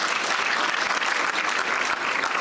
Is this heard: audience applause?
yes